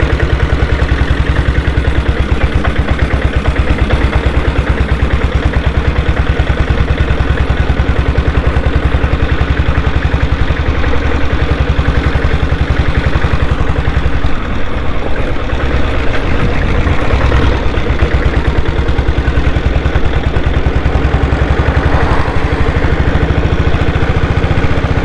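A restored diesel Bullet motorcycle idles steadily and loudly up close, its low thumping engine rumble with mechanical clatter running continuously throughout, without speech.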